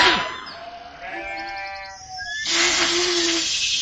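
Sheep bleating in an animated fable, several wavering bleats in a row, the last one loud and drawn out, with no talking over them.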